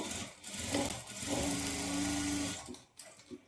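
A sewing machine stitches a lined blouse at the armhole in a short, steady whirring run that slows and stops near the end, close by with no speech.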